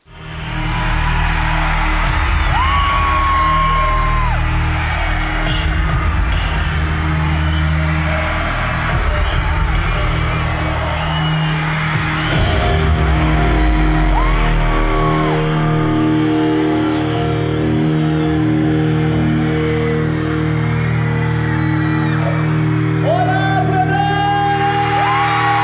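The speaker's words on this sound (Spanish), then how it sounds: "sus seguidores gritaron y ovacionaron la presentación que se llevó a cabo en el auditorio del Complejo Cultural Universitario" A concert audience in a university cultural complex auditorium yells, whoops and cheers for a band. The loud, dense crowd roar carries on without a break, with shrill individual shouts rising above it.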